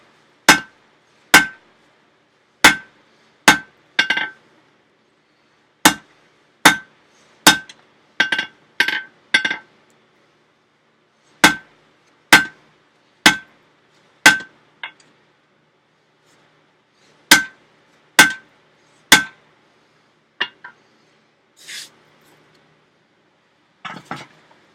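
Hammer blows on hot metal at a blacksmith forge, loud ringing strikes in evenly spaced groups, each group ending in a few quicker lighter taps, with softer scattered taps toward the end.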